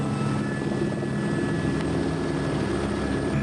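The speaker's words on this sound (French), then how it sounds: "nous sommes montés très haut avec l'hélicoptère de Frédéric North pour pouvoir découvrir l'intégralité de ce canyon sinueux" A helicopter flies high over a winding canyon during the Paris–Cape Town rally, its rotor and engine drone steady, loud and close throughout with no talk.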